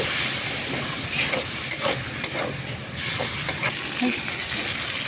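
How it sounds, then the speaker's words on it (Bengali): Spicy onion-based masala for a snail curry being sautéed with a splash of water: continuous close sizzling and steamy hiss, with soft scraping stirs and occasional taps of a spoon against the pan. "এতে দিয়ে দেবো একটু জল দিয়ে ভালো করে এটাকে কষিয়ে নেব"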